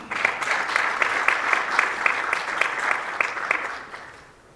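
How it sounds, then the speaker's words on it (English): A crowd claps steadily at a Mastercard funding announcement event, a warm sustained round of applause that tapers off and fades out toward the end. "So give that another round of applause"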